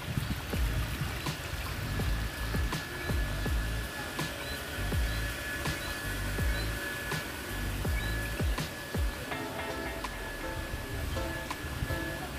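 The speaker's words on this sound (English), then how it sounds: "I can hear the water." Steady broadband rush of flowing water near a waterfall in a Jamaican park, continuous and fairly loud throughout, with faint bird calls and scattered small knocks over the top.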